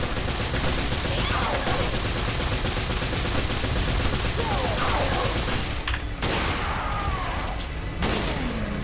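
Dense, continuous gunfire in Resident Evil: Revelations, with rapid repeated shots filling the whole stretch, loud and close, and faint voices under the shooting.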